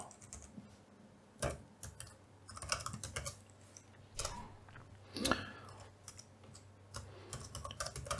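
Quiet, irregular clicking of a computer keyboard as code is typed, short bursts of keystrokes with brief pauses over a low steady background hum, no speech.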